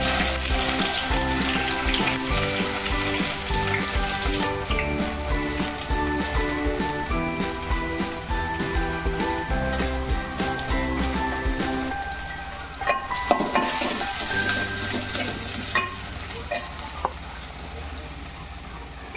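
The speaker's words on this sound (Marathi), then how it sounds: "कढईमध्ये तेल ठेवलेलं आहे मम्मीनी गरम होण्यासाठी। आता आपण कांदा टाकू।" Onion sizzling and crackling in hot oil in a kadhai while manchurian chilli is being cooked, loud and continuous at first, then settling into quieter, intermittent frying with a few stirring clinks.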